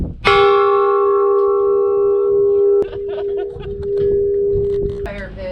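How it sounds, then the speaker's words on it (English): Campground doorbell at Uranium Springs, a single loud bell strike ringing out with a long sustained metallic tone, then a second softer chime as people laugh and talk nearby. "This is our doorbell."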